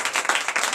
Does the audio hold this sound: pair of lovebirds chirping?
no